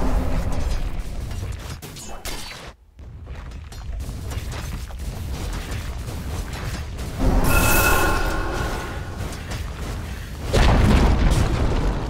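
A Dota 2 match where a tower structure is destroyed, giving a loud booming crash that rises suddenly partway through, with a second burst near the end, over continuous game effects and music.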